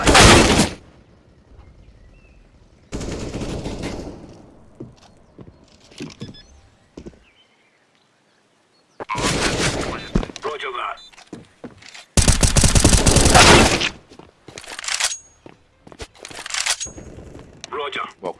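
Gunfire from Counter-Strike: Global Offensive comes in several loud, dense bursts separated by quieter gaps, with no talk over it.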